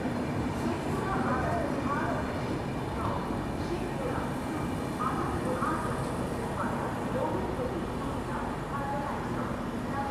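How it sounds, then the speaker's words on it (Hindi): Ranchi Garib Rath Express, the New Delhi–Ranchi train, rushes past with a steady, dense rumble and clatter of wagons that holds at an even loudness throughout. "सामने से जो है स्किप कर रही है रांची गरीब रथ, न्यू दिल्ली रांची गरीब रथ एक्सप्रेस"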